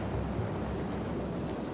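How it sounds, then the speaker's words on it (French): Steady, dense rain pours through a thunderstorm in a fairy-tale adventure setting, with a continuous low rumble of thunder underneath and no voices. "Ici, nous sommes à l'abri de l'orage."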